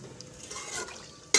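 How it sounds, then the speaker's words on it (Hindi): A tin of water is poured into a pot of beef yakhni for pulao, making a soft, quiet splash and trickle that ends in a sharp metallic clink. "ये ऐड कर लेते हैं और 1 डब्बा इसमें पानी का डाल लेते हैं"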